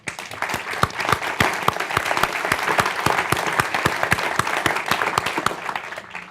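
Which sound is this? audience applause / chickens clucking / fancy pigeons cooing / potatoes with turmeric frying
audience applause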